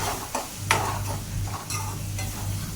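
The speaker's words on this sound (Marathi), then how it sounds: "व्यवस्थित सगळं मिश्रण आहे ते आपल्याला परतून घ्यायचं आहे" A chicken masala mixture sizzles and is sautéed in a pan for dry chicken, with a utensil scraping and stirring in several quick strokes and clinks over a constant close frying hiss.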